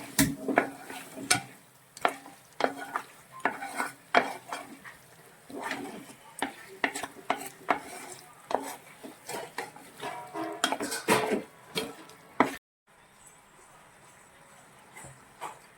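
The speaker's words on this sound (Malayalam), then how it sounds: "ഇനി ഈ ചിക്കനും ഈ ഗ്രേവിയും തമ്മിൽ നന്നായിട്ടൊന്ന് മിക്സ് മിക്സാക്കിയിട്ട് അടച്ചു വെച്ച് വേവിക്കണം" Chicken mixed into ground roasted-coconut gravy in a pan for chicken varutharachathu, with repeated clinks and scrapes of a spoon against the pan over a low sizzle, close and uneven, ending in near quiet.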